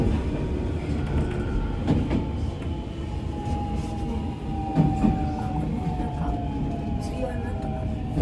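A JR Chuo West Line train runs just before Shiojiri, with a steady low rumble of rolling wheels and car noise, a drawn-out squeal near the middle and a wheel clack, while a voice talks throughout.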